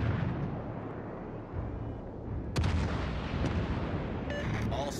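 Naval artillery fires in the World of Warships: Legends video game, a deep rumbling boom that swells around the middle, followed by sharper cracks and a faint radio-style voice near the end.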